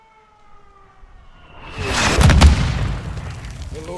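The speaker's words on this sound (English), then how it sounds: "Launching mortars." Mortars launch in the Call of Duty Modern Warfare 2 campaign as a loud, rising rush and heavy boom that swells from near silence, with a whooshing roar lingering after the blast, no voices over it.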